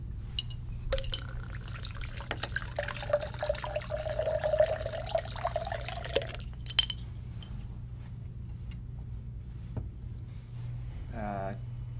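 A drink is poured into a glass at a card game, a close liquid gurgle lasting several seconds, followed by a clink and a brief voice.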